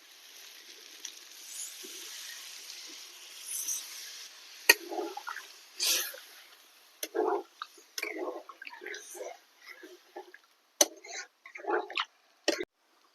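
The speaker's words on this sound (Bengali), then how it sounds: "তো এবারে আমি দুধ দিয়ে দেব।" Milk being poured into cauliflower frying in a pan for korma, with a soft sizzle and bubbling that turns into sporadic crackles and spits, partly under a voice.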